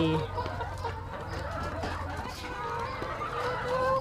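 Several chickens cluck and squawk close by in a busy, overlapping chorus around feeding, with a low hum running underneath for the first half.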